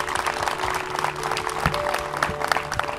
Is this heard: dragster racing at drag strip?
no